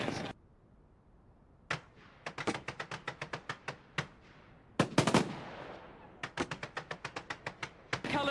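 London New Year fireworks recreated, a burst of sharp crackling pops in rapid rattling volleys with short pauses between clusters, loud and close, no talking.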